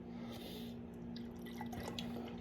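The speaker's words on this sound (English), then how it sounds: "Let's get to the pour." New England IPA homebrew beer pours into a glass, a soft continuous liquid trickle with faint drips over a low steady hum, close and quiet with no talking.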